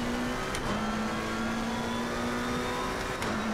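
A McLaren 720S race car at Suzuka in a racing simulation pulls out of a corner under power, its engine a steady loud drone with a sustained tone holding through the clip, close and alone without voices.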